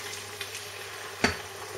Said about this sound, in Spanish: Y ahora vamos a ir añadiendo el caldo poco a poco